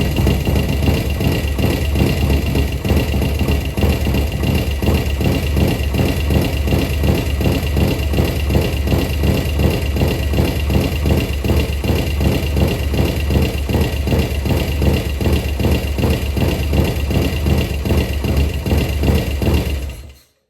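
A Harley Sportster engine in a flat track motorcycle build, choke on, runs at a loud, steady idle close by for about twenty seconds, its rhythmic low thrum unbroken until it cuts off abruptly at the end.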